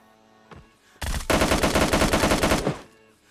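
Gunfire in the mobile battle royale game PUBG Lite: a lone shot, then a loud, sustained automatic burst of rapid evenly spaced rounds lasting over a second before cutting off, with no talking.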